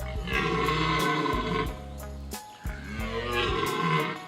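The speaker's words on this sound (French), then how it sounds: "elle n'entend pas le brame du cerf" A red deer stag bellows during the rut, a loud, deep, drawn-out roaring call repeated twice, with a brief break between the two bellows and no talk over them.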